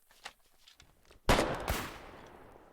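A shotgun blast and gunfire in the war video game Foxhole during night frontline fighting: faint thuds, then one sharp loud report whose echo trails off quickly.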